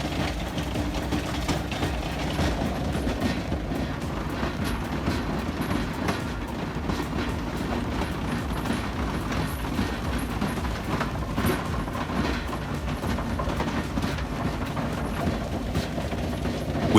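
A Kobelco KMC300R hydraulic crawler roll crusher grinds debris between steel rollers, a dense, continuous, loud mechanical rumble and clatter with no voices.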